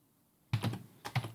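Close typing on a computer keyboard while entering a name in a business software form, a quick run of soft key taps in two short bursts, with no talking.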